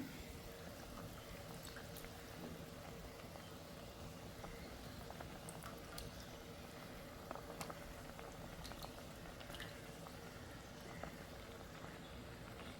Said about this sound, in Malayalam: ഇതാ തിളച്ച് തുടങ്ങിയ ഈ മീൻ ചാറിലേക്ക്